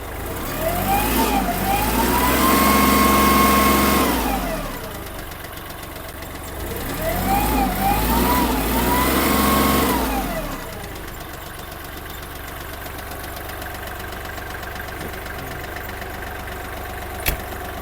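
The small diesel engine of a Kubota GL-29 mini tractor is revved twice, each rise swelling to a loud, steady whine before falling back to a rough, knocking idle.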